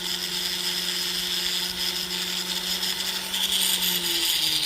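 A power tool polishes major scratches out of a ring being resized to size 11. It gives a steady whine with high-pitched hum and buzz that holds evenly for the whole stretch, close and loud, with no voices.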